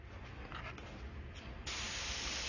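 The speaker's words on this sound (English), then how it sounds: "A little bit of air from the airbrush helps dry it sometimes." An airbrush blows plain air to dry freshly sprayed paint, making a soft, steady hiss that grows noticeably stronger partway through.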